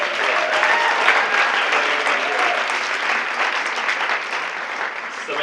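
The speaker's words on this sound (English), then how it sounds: "Give Samantha a round of applause" A banquet audience gives a full round of applause, loud, dense and steady throughout with no break, with faint crowd murmur mixed into the clapping.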